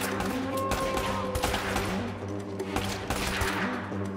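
Gunfire in the action video game Uncharted: Drake's Fortune, loud bursts of automatic shots at a firefight's pace over a steady game music and ambient hum, with no talk.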